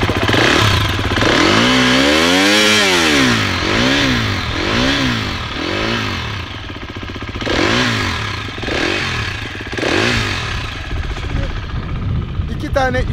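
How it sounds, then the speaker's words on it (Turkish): Enduro off-road motorcycle engine revved repeatedly with the throttle, rising and falling in several loud, close surges with clattery mechanical texture over about thirteen seconds. "Motosikletin gazını hissetmeni istiyorum."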